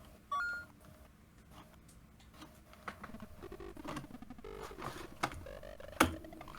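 Phone beeping, with a sharp tone burst near the start followed by scattered electronic beeps and chirps over a low background, faint to moderate.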